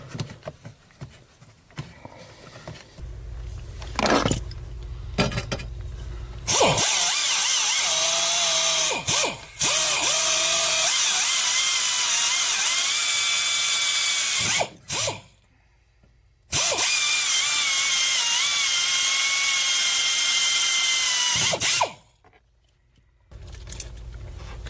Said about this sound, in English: I use a small drill bit first to drill some pilot holes.